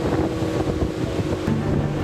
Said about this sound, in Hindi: लहरों के रौद्र रूप को देखकर डर लग रहा है।